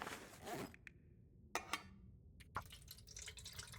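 Fuel dribbling into a lantern in The Long Dark, a few faint scattered drips and small liquid trickles separated by near silence, quiet and close.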